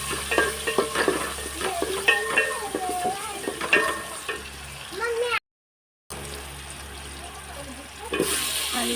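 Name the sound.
potatoes frying and being stirred in a pan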